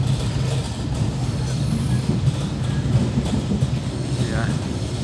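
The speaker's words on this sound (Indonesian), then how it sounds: "Sebentar lagi kereta api akan memasuki stasiun Jember." Train running on rails toward Jember station, heard from inside the carriage: a steady low rumble and hum with faint rattles, continuous and moderately loud throughout.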